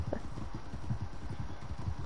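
Horse hooves clip-clop in a steady walking rhythm in the video game Red Dead Online, close and continuous, with faint background talk beneath.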